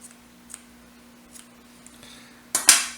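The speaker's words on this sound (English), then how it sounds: "We'll go ahead and cut our butts off right there." A few faint ticks, then two sharp, bright snips close up near the end as scissors cut fly-tying material at the hook, over a low steady hum.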